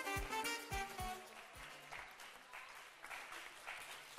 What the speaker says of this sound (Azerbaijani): daha güclü alqış istəyir